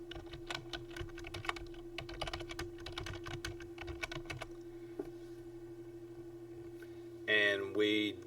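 Rapid clattering keystrokes on a computer keyboard for about four seconds, then a quiet hum and a brief electronic tone near the end.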